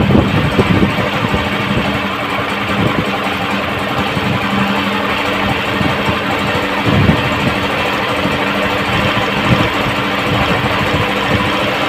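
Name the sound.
Honda CG125 motorbike engine running rich, knocking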